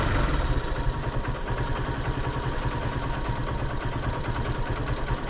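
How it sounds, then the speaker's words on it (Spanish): A carbureted 2012 motorcycle idles steadily after starting with the choke pulled off, its low engine rumble running loud and continuous close by, with no talk over it. "La moto queda regulando a más de 1000 RPM en este caso"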